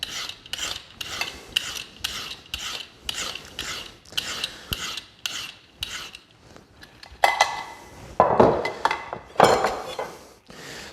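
A fresh carrot is peeled by hand: about a dozen crisp, rasping scrape strokes come in an even rhythm, then turn into heavier, rougher rubbing near the end, close and moderately loud with no talking.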